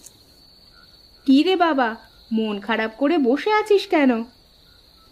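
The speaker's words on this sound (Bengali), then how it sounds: "চারপাশে শুধু ঝিঝি পোকার ডাক।" Steady high crickets chirp at dusk through the whole stretch, a continuous thin drone with a person talking over it in the foreground.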